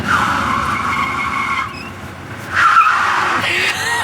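A car's tires squeal and skid loudly as its failed brakes won't stop it, a sustained close screech that fades and then surges again.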